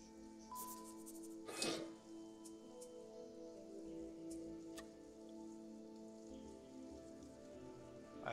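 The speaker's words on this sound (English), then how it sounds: "That's black rain too." Steady rain falling on surfaces in the survival game Sheltered, a constant soft hiss with a brief louder burst early on, no voices.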